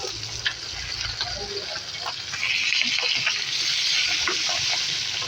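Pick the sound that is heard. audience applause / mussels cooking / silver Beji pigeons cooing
mussels cooking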